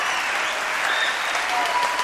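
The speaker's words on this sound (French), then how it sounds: "Applaudissements pour ce monsieur et pour ces ânes." An audience at a French television variety show applauds steadily, a dense, even wash of clapping with no voices on top.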